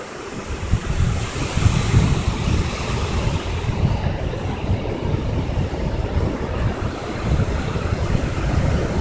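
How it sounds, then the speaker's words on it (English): Ocean waves surge and break on the shore at Daytona Beach, Florida, a loud continuous wash of surf with rolling swells, mixed with heavy wind buffeting the microphone. "I am right on the water and I want you guys to hear the sound of the waves."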